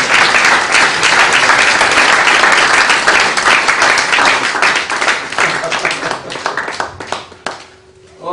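Church congregation applauding, a dense, loud wave of clapping with voices mixed in that thins out into scattered claps and fades near the end.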